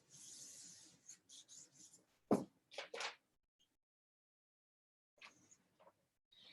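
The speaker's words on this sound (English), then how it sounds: "Let me write this." A pen scratches out a calculation on paper in short, close strokes and scribbles separated by brief pauses, quiet and dry, with no talking.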